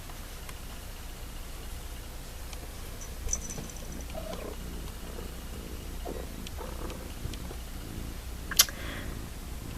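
A pet cat purrs close by in a steady, low rumbling rhythm, with a few soft clicks and taps around it and no talking.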